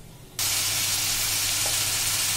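Chopped onion, garlic and chili hit hot oil already crackling with a cumin seed tempering, and a loud, steady sizzle bursts in suddenly and holds without a break.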